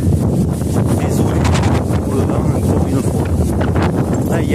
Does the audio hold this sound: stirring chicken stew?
no